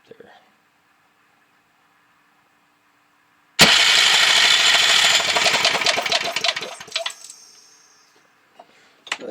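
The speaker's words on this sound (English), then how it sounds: "There, electric starter works." A Briggs & Stratton 5HP engine with a 120 volt electric starter cranks loudly after a near-silent pause, a dense whirring, chugging burst of several seconds that trails off and fades as the starter stops.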